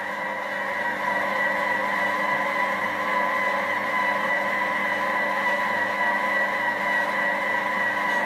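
A Heinrich's HKM 6278 planetary mixer kneading dough, its motor holding a steady even hum with tonal whine, close and constant throughout, no talk.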